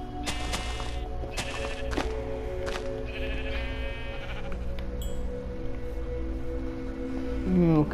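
Sheep in Minecraft bleat several times in short, clear calls spread across the clip, with other game sounds and a steady low hum underneath.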